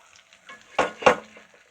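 Masala-coated fish frying in a pan, giving a low background sizzle with two louder bursts of spitting oil close to the microphone, and no voices.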